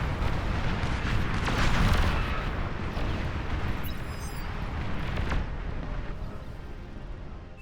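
Dense, rumbling missile fire and explosions in the strategy game Beyond All Reason, overlapping booms and crackling bursts rolling continuously at a loud, even level with a few sharper blasts standing out, no voices.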